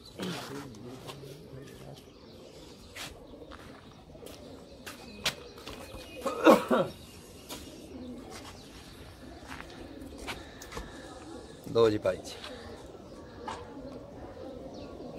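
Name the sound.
teddy pigeons cooing, Sialkoti and teddy cross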